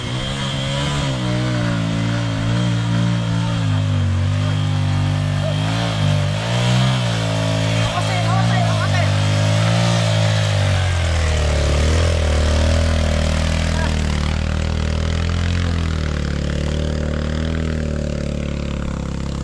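A motorcycle engine labors up a roughly three-kilometer rural uphill road in Central Kalimantan, a loud continuous drone that rises and falls in pitch as the throttle shifts, with no talk.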